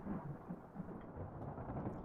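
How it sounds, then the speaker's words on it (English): Low rolling thunder rumbles faintly under steady rain in the video game Return of the Obra Dinn, a dull continuous storm ambience without speech. "I can hear the thunderstorm."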